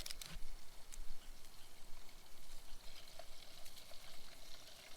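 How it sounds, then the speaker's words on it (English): Arctic grayling fish fillets fry in a pan outdoors, giving a steady, dense crackling sizzle that runs unbroken and fairly soft, with no voices. "those fish are cooking really fast because they're sizzling quite a bit"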